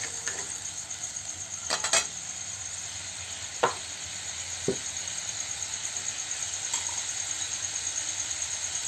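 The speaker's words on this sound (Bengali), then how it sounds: "অল্প একটু হলুদ গুঁড়ো, জল অ্যাড করবো, সামান্য নেড়ে নেবো, নাড়াচাড়া করে মশলাটা একটু হয়ে যাক।" Spices with turmeric powder and water are stirred in a pan for a vegetarian paneer curry, a steady close sizzle with a few scattered light clicks and scrapes, no talk.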